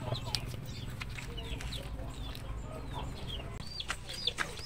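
Chicks peep in a chicken-breeding setting, a steady stream of high, thin, rising chirps from several birds, with occasional low clucking over a constant low rumble.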